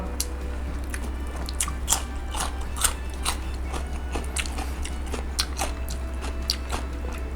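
Close-up crunchy biting and chewing of Thai fermented pork nham eaten with garlic, with repeated moist crunches at an irregular pace over a steady low background hum.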